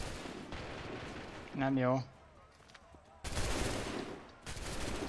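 Musket volleys crack out in Assassin's Creed III as two sudden, loud bursts of gunfire, heard after a short spoken phrase amid steady background noise.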